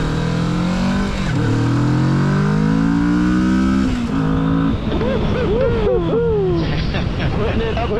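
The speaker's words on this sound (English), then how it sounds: "Putting it up in the high revs, it really takes off on you." A Yamaha Vulcan S motorcycle engine revs hard and climbs steeply in pitch, then winds through rising and falling revs as it accelerates, loud and close, with voices underneath.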